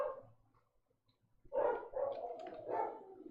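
Dogs bark indoors: a soft whine fades, then after a short quiet several loud barks and yelps come in a run, fairly close.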